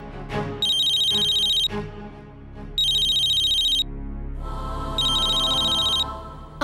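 A telephone ringtone sounds in three bright electronic bursts of about a second each, separated by short pauses, over a low steady background.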